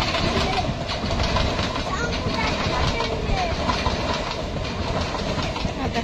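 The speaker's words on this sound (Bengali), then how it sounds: "আর দেখো এই দেখো ট্রেন যাচ্ছে" A passing train gives a dense, continuous rumble with rhythmic clatter from the wheels, loud and steady throughout, with a person talking over it outdoors among trees.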